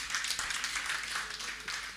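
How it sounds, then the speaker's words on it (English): Scattered audience clapping at an innovation summit in Nigeria, a steady patter of hands filling the room for a couple of seconds at moderate level, with no voices over it. "it's a good place to clap if you have to"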